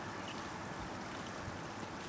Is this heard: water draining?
yes